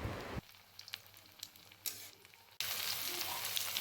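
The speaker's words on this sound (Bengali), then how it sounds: "এইভাবেই আমি পটেটো চিজ বলের দুপাশকেই খুব ভালো মতন ভেজে নিচ্ছি" Potato cheese balls frying in oil, a close, hissing sizzle that is faint in the middle stretch and then swells loud and steady again.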